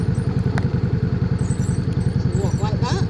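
Motorcycle on an evening road ride through the Duddon Valley, its engine pulsing in a loud, steady, rhythmic chug close up, with a voice speaking over it near the end.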